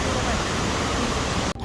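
Waterfall near Nikko rushing as a dense, steady broadband roar, loud and close, cutting off abruptly near the end.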